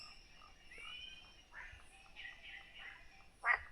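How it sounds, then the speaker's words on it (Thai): Frogs croak in a forest at dusk, a chorus of repeated calls at mid-distance with one louder, closer croak near the end and no talking. "เสียงกบเสียงเขียด"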